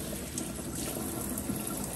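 Water runs steadily over an orchid planted in a Leca container, a continuous close trickle and splash with no talk over it.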